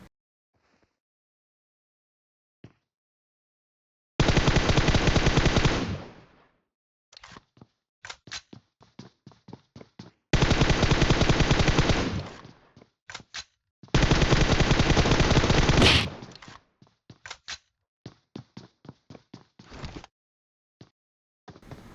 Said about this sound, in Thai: เราก็จะเห็นได้ว่าเขายิงทะลุใบไม้บ่อยมากนะครับ